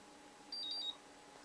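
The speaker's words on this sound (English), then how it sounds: "you hold down the start button, and it's going to beep at you" A LiPo battery charger, set for an 18.5 volt pack, gives a few short, high electronic beeps after its start button is held, faint and close against a quiet room.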